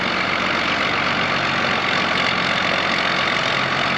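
A tractor with an 8.1 liter engine idling close by, a loud, steady rumble holding even and unbroken throughout, with no voices.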